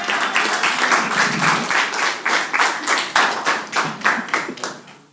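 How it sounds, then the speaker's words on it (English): An audience at a young chefs' culinary competition and conference in the Bahamas claps in a round of applause for a guest chef, steady and fairly close, with individual claps distinct and fading out at the end. "Let's give Chef Johnson a round of applause"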